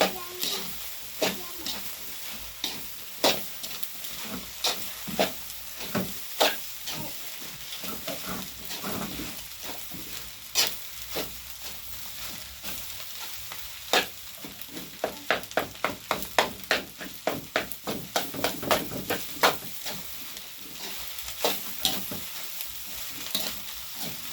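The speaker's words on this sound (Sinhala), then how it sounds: "හොඳට ටික ෆ්‍රයි කරගන්න ඕන. ටිකක් හොඳට කලවම් කරගන්නවා." Egg fried noodles sizzle steadily in a hot pan while a utensil scrapes and stirs them, sharp clatters recurring in uneven bursts over the continuous frying hiss, close and fairly loud, with no talking.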